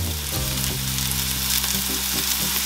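Curry powder frying with chopped onions in hot oil for Jamaican curry mutton, a steady, loud, close sizzle with faint scraping stirs throughout.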